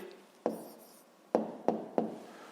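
Pencil writing down an answer in a maths exercise, making four short, sharp taps and scratches close by on paper, spaced unevenly apart.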